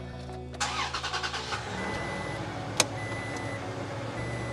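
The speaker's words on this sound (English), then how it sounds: "And then I'm gonna turn the truck on here in a bit." A pickup truck engine cranks with a rapid pulsing starter whir, catches, and settles into a steady low idle, marked by a single sharp click partway through.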